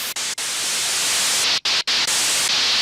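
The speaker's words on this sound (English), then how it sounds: "So you've got your white noise." Loud, hissing white noise from the noise generator of a Korg ARP Odyssey synthesizer, broken by several brief cutouts and slight shifts in brightness as it is gated on and off.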